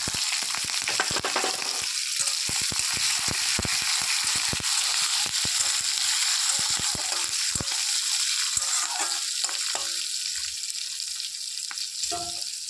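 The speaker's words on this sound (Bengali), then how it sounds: "তেল গরম হয়ে গেছে, গোটা রসুন আর কাঁচা লঙ্কা আর দিয়ে দেবো কালো জিরে" Whole garlic cloves, green chilies and black cumin seeds frying in hot oil give a loud, steady sizzle with dense crackling and sharp spitting pops throughout.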